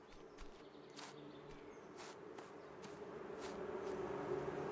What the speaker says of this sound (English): I've got a lot of bees.